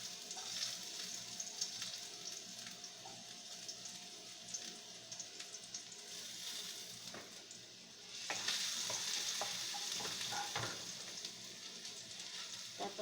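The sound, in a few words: garlic and vegetables sautéing in oil for tortang patola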